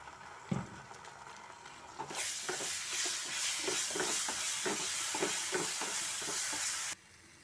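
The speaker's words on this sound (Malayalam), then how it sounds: "ഇതിലേക്ക് കുറച്ച് ടൊമാറ്റോ സോസ് ഒഴിച്ച് കൊടുക്കുന്നുണ്ട് കേട്ടോ" Frying masala for chicken kondattam hisses and sizzles loudly in a pan as tomato sauce goes in, with a soft knock at first, then a burst of steam and repeated stirring scrapes for several seconds before stopping abruptly.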